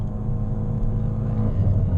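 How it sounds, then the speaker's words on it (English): Turbocharged Hyundai Veloster with methanol injection, engine humming steadily under light throttle as boost builds, a continuous low drone from inside the car that grows slightly louder toward the end. "barely touching the gas. It's building boost."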